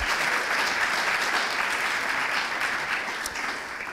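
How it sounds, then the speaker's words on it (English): Audience applause at a formal welcome event, a dense, steady wash of many hands clapping together, sustained at an even level throughout with no voices on top. "We can applaud."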